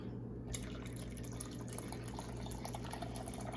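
Hot water poured from a container into a bucket, a steady close splashing and trickling stream that runs throughout without talk.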